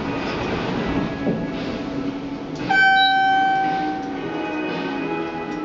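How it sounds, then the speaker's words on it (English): Hydraulic shuttle elevator at a hotel in New York City near Penn Station, its motor giving a steady, fairly loud hum and whine that swells midway with a sustained tonal whir, then settles back into a continuous drone. "Listen to the motor."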